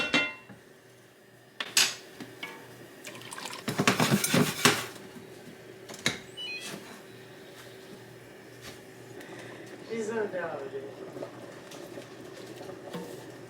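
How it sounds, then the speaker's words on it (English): Dry cavatappi macaroni pours and clatters into a metal pot of boiling water, then a spoon scrapes and knocks against the pot as it is stirred, a few loud clinks early, softer bubbling and stirring afterward, no talk. "We are going to go in with my favorite macaroni noodles, some cavatappi. Give it a stir, cook it until it is al dente"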